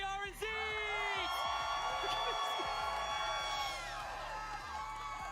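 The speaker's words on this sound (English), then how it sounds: "Can I get a huge round of applause representing Brazil?" A crowd at a Fortnite tournament cheering, whooping and clapping with sustained shouts and whistles, loud and lively, while an announcer's voice carries over the top.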